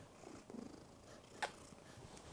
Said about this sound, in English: Do you hear my cat purring?